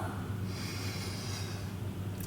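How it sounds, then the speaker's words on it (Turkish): A deep breath drawn during a shoulder-stretch yoga session, a steady, close airy inhalation lasting a couple of seconds with no talking. "Son kez derin bir nefes al."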